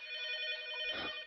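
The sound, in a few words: telephone ringing in Roblox video game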